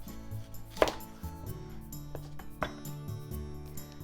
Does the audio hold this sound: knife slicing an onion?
yes